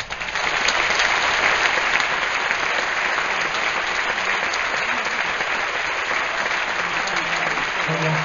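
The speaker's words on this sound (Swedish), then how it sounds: "Ge honom en stor applåd." A large concert audience at Cirkus Stockholm gives a guest singer a long, thick wave of applause that stays loud and even for several seconds.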